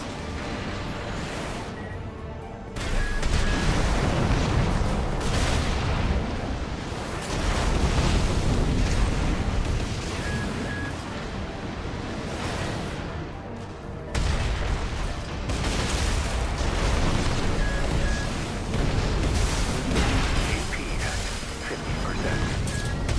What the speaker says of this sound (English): They weren't expecting the explosion.